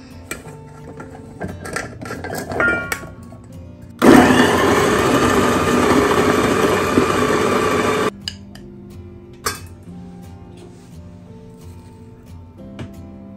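A blender grinding raw cassava for combro fritters, its loud motor roaring in a steady four-second burst between quieter stretches of clinking and handling.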